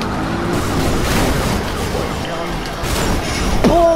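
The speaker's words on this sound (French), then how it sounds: "On active les gyros. Et on accélère." A police car accelerating in Need for Speed Rivals, its engine roaring and revving steadily under continuous game noise, with a sharp screech near the end.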